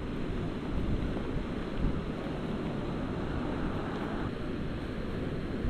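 Steady rain and 20 mph wind gusts roar around a fishing boat on moving water, a dense, continuous broadband wash with swelling gusts and no voices.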